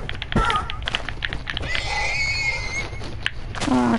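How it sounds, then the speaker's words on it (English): A horse in the video game Minecraft gives a short, rising whinny near the end, heard over a busy bed of game sounds and clopping. "I might just kill this horse."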